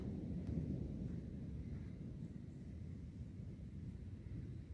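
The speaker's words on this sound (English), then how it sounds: "here's a little bit of a thunderstorm" Distant thunder from a thunderstorm near Sault Ste. Marie, a low continuous rumble that swells slightly early on and then rolls steadily, with no voices over it.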